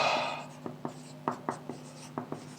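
Chalk or marker writing on a board during a physics lecture on friction, a quiet series of distinct taps and short strokes spaced irregularly against a faint hum, no talking.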